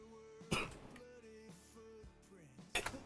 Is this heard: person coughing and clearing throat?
yes